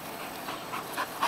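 A dog pants quickly and rhythmically close by, short breathy puffs building toward the end, with no talking.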